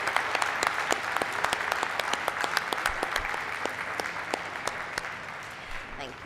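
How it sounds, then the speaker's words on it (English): An audience at a co-op annual meeting applauding, a dense, sustained round of clapping from many hands throughout that fades slightly toward the end. "Would you please join me in thanking Krista with a round of applause?"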